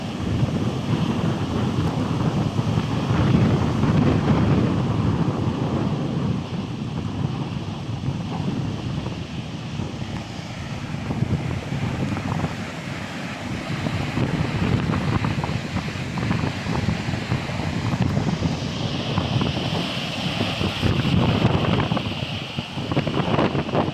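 Strong typhoon winds buffet the microphone while rough sea waves surge and crash nearby, a loud, continuous roar with rising and falling gusts and no voices.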